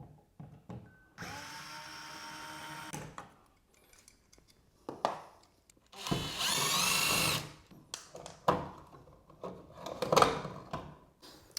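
Bursts of an electric screwdriver removing an outlet cover plate, two loud whirring runs of a few seconds each, separated by quieter clicks and handling noises, close and with no talking.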